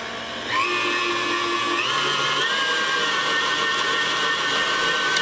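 Electric blender running steadily, whipping cheesecake filling with vanilla and lemon juice added, a loud continuous whine that steps up in pitch twice early on as the speed rises, with no talking.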